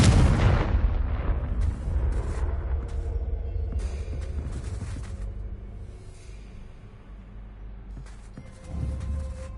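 A Confringo fire spell explodes in the Hogwarts Legacy video game. A loud, deep boom hits at the start, then fades into a long rumbling tail with scattered crackles and a second smaller thud near the end.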